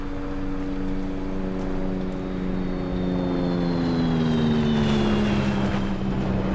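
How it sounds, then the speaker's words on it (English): A helicopter flies overhead on Tanoa island in DayZ, its steady rotor and engine drone loud and continuous, the tone slowly shifting as it passes. "That sounds like a helicopter."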